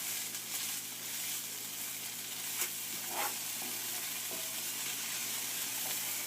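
Onion caramelizing in a cast iron pan, a quiet, steady sizzle with faint crackles and a few soft stirring scrapes, no voices over it.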